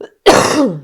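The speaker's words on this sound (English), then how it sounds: "hope you cut out my horrible cough" One harsh, horrible cough bursts out close and loud, rasping into a throaty clear. A brief spoken word comes just before it.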